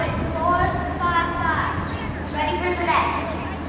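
A horse loping in circles in an arena, its hoofbeats a steady rhythmic clip-clop at moderate distance, with people talking over it throughout.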